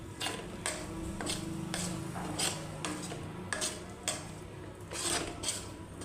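Gram flour roasting in a pan for boli pinni is stirred with a spoon, giving repeated scraping and rubbing strokes against the metal in a steady rhythm, close and moderately loud, with no talking.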